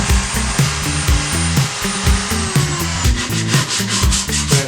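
A router rounding over the corners of a wooden frame for a homemade vacuum forming machine, a loud steady high-pitched whine with gritty rubbing as the bit cuts along the edges, continuing throughout.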